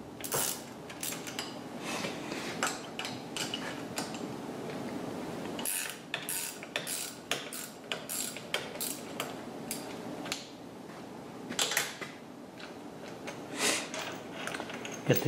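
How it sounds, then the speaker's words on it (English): T-nuts on a BS-1 dividing head are loosened and repositioned with light metallic clinks, scrapes and taps scattered irregularly across a quiet workshop background. "Get the T-nuts out, wiggle the whole thing around, get the T-nuts positioned back in."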